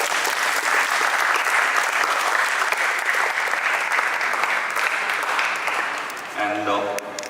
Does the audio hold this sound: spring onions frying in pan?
no